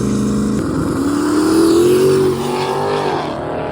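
A drag race car makes a pass, its engine droning steadily at high revs and rising in pitch, loud and continuous throughout with no talk.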